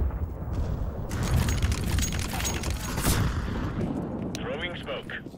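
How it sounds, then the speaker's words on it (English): An incendiary grenade in Counter-Strike: Global Offensive goes off with a loud rushing burst that becomes a sustained roaring burn, steady and dense for several seconds, with a brief voice near the end. "Throwing a grenade. Incendiary."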